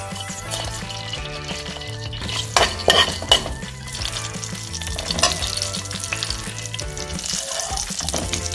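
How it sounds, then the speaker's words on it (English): Cumin seeds frying in vegetable oil in a pan for homemade masala, a steady close sizzle with occasional stirring clinks and a faint musical background. "We put some vegetable oil in it. These are cumin seeds right here."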